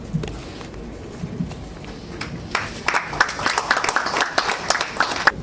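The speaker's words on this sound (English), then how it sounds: "Please give him a huge round of applause." Applause from an audience at an AI and drones talk, starting as scattered claps and swelling into a denser, steadier round of clapping partway through, moderately loud and without speech.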